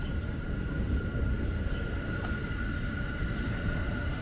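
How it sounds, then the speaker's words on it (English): A B or Q subway train crosses a bridge over an active freight rail line in Brooklyn, giving a continuous low rumble and roar that stays steady and fairly loud throughout, with no voices. "there is the sound of the B or Q train crossing over this freight line"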